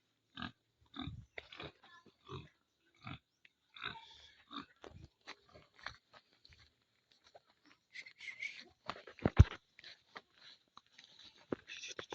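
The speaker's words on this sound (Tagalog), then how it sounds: "May baboy dito oh." Pigs grunt in short, separate bursts at a rural provincial farm where they are being fed, some snorts close and loud, others softer, with faint quiet between them and no talk.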